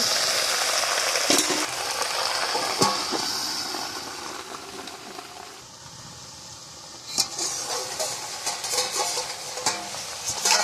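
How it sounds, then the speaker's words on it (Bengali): Spinach and beans hiss and sizzle in hot oil in a wok, a steady crackling fry broken by a few sharp stirring clatters and scrapes. "কড়াইতে দেবো তেল। প্রথমে দেবো পালং শাক, এবারে দেবো শিম।"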